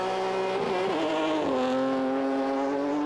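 A Mazda 3 rallycross race car with a 300-horsepower petrol engine, four-wheel drive and four-wheel steer revs hard, its loud buzzing engine note shifting pitch through gear changes at close range.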